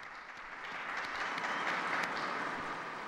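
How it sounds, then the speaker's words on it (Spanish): Crowd applause at an open-air papal Angelus gathering, heard as a distant, even wash of many hands clapping that holds steady for about three seconds. "Un aplauso al nuevo beato"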